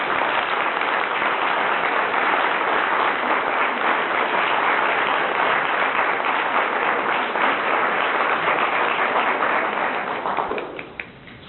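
Sustained applause from an audience welcoming honoree Jim Milner at a Marquette University College of Professional Studies event, steady dense clapping for about ten seconds before thinning out at the end.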